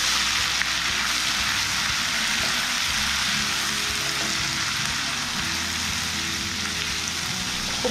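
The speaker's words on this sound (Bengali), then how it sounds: "1 চামচ দেবো রসুন বাটা, 1 চামচ দেবো আদা বাটা, খুব ভালো করে কষিয়ে নেব।" Onion paste with garlic and ginger paste frying in a pan for fish rezala, a steady, close, dense hiss of sizzling oil with faint stirring scrapes throughout, no talk.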